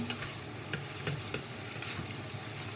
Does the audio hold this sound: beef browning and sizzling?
yes